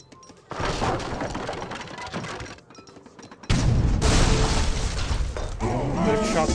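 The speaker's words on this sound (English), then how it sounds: "Shot there, more field cannon now." Field cannon volleys booming in Age of Empires 3, a real-time strategy battle between British and Iroquois armies; loud, dense bursts of crashing gunfire and impacts, with a sharp heavier barrage in the second half.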